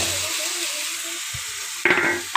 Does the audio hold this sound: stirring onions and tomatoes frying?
yes